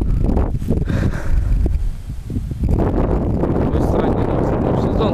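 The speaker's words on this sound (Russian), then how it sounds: "ветер" Wind buffets a microphone on the bank of the Oka river during a fishing trip, loud low rumbling gusts that ease briefly in the middle and then surge back, with some rustling.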